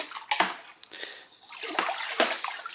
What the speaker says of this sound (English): And that's that for the stirring.